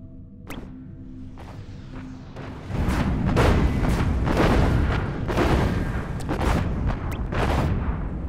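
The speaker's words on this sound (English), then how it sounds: "Oh, he's got artillery of his own." Artillery fire in the Planetary Annihilation strategy game: after a quieter opening with one sharp crack, a dense barrage of repeated booms and blasts sets in and keeps rolling to the end, loud and continuous.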